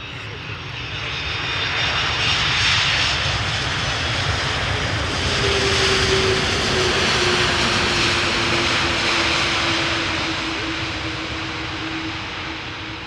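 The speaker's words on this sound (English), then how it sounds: "Nice landing, but unfortunately not much more than that." A 17-year-old KLM Airbus A330-200 landing at Amsterdam Schiphol after a flight from Bonaire, its jet engines swelling into a loud, broad roar with a sliding whine, then easing off as it rolls by.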